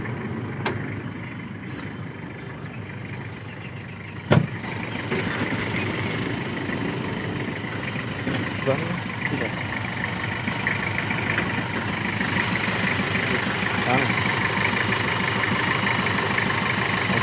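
A 2004 Toyota Kijang LGX with a 2400 cc diesel engine and manual transmission idles at moderate volume with a steady, even rumble and light clatter. A couple of sharp clicks come early on.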